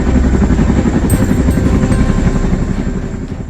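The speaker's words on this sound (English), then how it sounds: "CH-53 Sea Stallion is another powerful heavy-lift helicopter capable of carrying even larger loads than the Chinook." A CH-53 Sea Stallion heavy-lift helicopter thunders close by, its rotor beat a loud, steady rhythmic chop layered over a deep engine drone.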